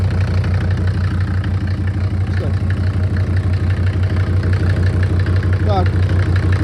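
A SsangYong OM662 2.9-litre diesel engine runs close by with a steady, loud low-pitched chug at idle, continuous throughout, while people talk over it.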